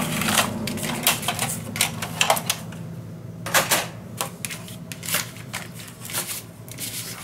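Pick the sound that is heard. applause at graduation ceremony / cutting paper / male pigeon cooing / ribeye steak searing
cutting paper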